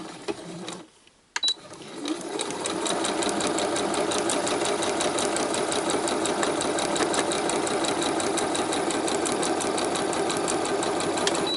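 Sewing machine stitching fabric strips for a Christmas place mat, starting after a brief pause with faint handling, then a steady, rapid close mechanical chatter running alone to the end.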